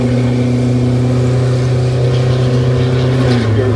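An MCI5 bus engine runs steadily with a loud new muffler, producing a constant deep drone with a low hum that holds even and close throughout, with no one speaking.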